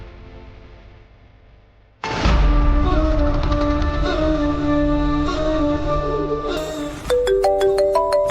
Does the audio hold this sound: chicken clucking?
no